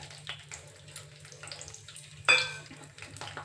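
Garlic cloves fry in a pan for a gongura dish, giving a soft continuous sizzle over a low hum, then a sudden loud burst of spattering and stirring that slowly fades back down.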